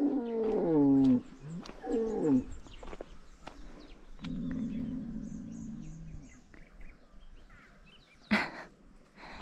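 Oxen low loudly in a few long, wavering calls up close in Malawi, followed by a steady low moan and quieter outdoor sounds, with a sharp clatter near the end.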